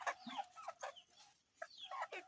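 Chickens cluck and squawk in short bursts, several birds close by, with brief pauses between calls.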